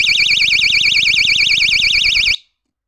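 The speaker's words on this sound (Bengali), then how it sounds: "এটা হচ্ছে আমাদের বার্গলার সিকিউরিটি অ্যালার্ম সিস্টেম" A China-imported burglar security alarm rated at about 90 dB wails in a fast, loud, warbling electronic siren tone, then cuts off abruptly into silence.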